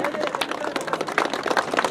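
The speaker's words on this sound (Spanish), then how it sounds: "pedimos esas fuertes palmas" Audience applause at the inauguration of a welcome sign in Tintay, Aymaraes, Apurímac: steady, dense clapping from a crowd, moderately loud and continuous throughout, with murmuring voices mixed in.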